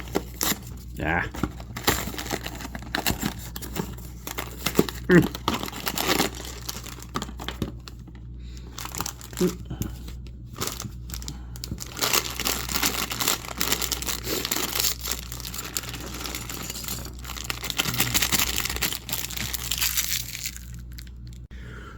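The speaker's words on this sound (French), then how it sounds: "Alors, on va ouvrir la boîte, regarder les accessoires" Cardboard and plastic packaging crinkle, tear and crunch as the box of a Blokees Devastator toy set is opened and the pieces are handled, close and continuous, with someone talking in between.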